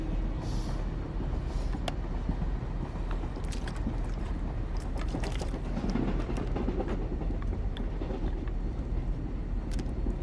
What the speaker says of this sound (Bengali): দুরন্ত এক্সপ্রেস